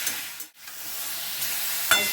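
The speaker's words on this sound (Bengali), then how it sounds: "চিকেনটা একটু নাড়াচাড়া করবো রঙটা চেঞ্জ পর্যন্ত" Chicken pieces being stirred and fried on a high flame for a vegetable chicken soup: a continuous close hiss and sizzle with a brief dip partway through and a small clink near the end.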